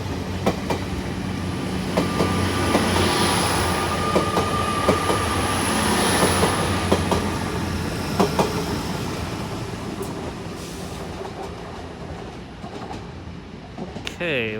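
A Class 802 IET train at Exeter St Davids station rumbles close by, with a heavy rolling roar, rhythmic wheel clicks and a faint squeal that gradually fade toward the end.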